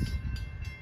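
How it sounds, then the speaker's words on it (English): CSX westbound freight train M327, 136 freight cars long, rumbling past at close range with steady low-frequency rolling noise and a bright, constant high tone from the wheels. "This is a westbound train, according to CSX terms."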